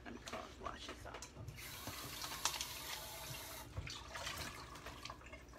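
Tap water runs over a yellow onion in a kitchen sink, a steady rushing splash broken by brief clicks and knocks as it is handled, fairly close and moderate in level.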